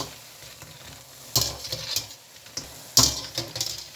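Pakoras fry in a pan over a low flame for Punjabi kadhi pakora, a soft steady sizzle broken by two sharper scraping stirs, close and fairly quiet, with no talking.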